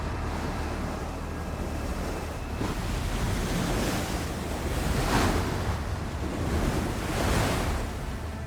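Strong rushing water roars steadily and loudly throughout, with surging swells that rise and fall, close and dominant with no voices.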